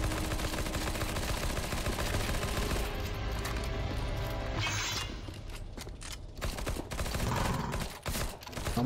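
Gunfire in the CS:GO Zombie Escape video game, an Aliens vs Predator map, as dense, continuous shooting with mechanical clatter, loud and steady throughout before breaking into choppier bursts near the end, with no talk.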